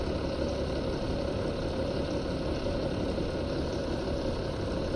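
A tractor engine idles in The Valley farming video game, a steady, unbroken low drone holding at an even level throughout with no voices.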